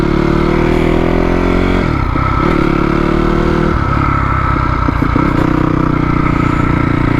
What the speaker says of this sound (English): But this will be our first little ride on the 250.